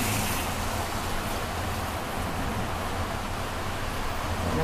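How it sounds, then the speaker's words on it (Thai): Steady rain falls over Bangkok as a dense, unbroken hiss that fills the whole stretch at an even level, with no voices on top. "เสียงฝนตกนะฮะวันนี้เป็นวันที่กรุงเทพฝนตก"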